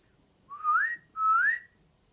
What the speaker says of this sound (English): I wonder what kind of bird that is.